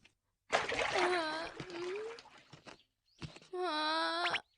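Cartoon water splashing in two loud bursts separated by a short silence, each mixed with wailing, moaning character voices.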